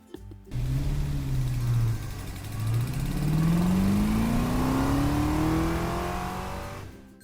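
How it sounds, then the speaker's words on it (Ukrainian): A sports car engine revs hard, its pitch climbing through gear changes as it accelerates past, loud and close, then fading at the end. "Так звучить спортивний автомобіль."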